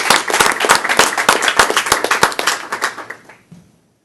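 A room of people at a bar association board of governors meeting breaks into applause, a dense run of sharp hand claps that thins out and stops after about three and a half seconds.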